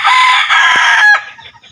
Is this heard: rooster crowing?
yes